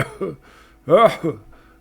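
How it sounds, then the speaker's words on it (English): An old man in the Pathfinder Kingmaker video game breaks into a short fit of coughing, two rough bursts close and clear, then trailing off. "The old man bursts into more coughing for a few moments."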